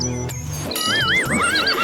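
A horse in an animated Hindi folk tale whinnies loudly with a rising and falling neigh, preceded by a few hoof clip-clops, with no talking.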